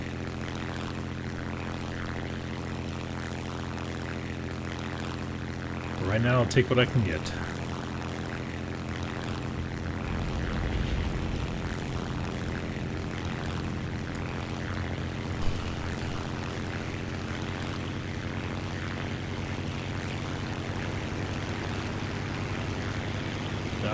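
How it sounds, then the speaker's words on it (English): A propeller plane engine in War Thunder arcade, flying a slow German prop aircraft, drones steadily and evenly through the whole stretch with a brief louder burst near the start, while someone talks over it. "this prop plane is so slow!"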